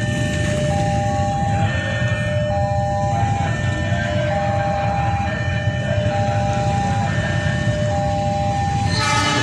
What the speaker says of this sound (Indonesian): Kereta apa lagi yang akan lewat nih?